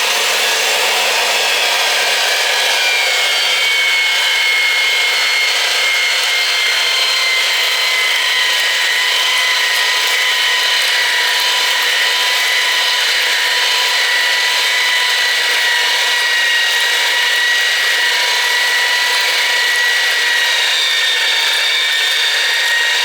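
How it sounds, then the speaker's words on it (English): A pipe threading machine cuts threads onto a pipe during a residential oil tank replacement, producing a loud, continuous grinding and whirring drone that holds steady for over twenty seconds with no talking. "The pipe's in the machine, you should thread it."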